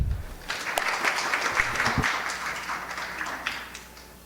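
Audience applause welcoming the artist Kate Kretz at a college artist talk, a dense clapping crowd that swells and holds steady, then slowly fades toward the end.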